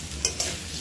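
Potatoes in spice masala are stirred in a frying pan, giving two quick scraping strokes over a soft, close sizzle, with no one speaking.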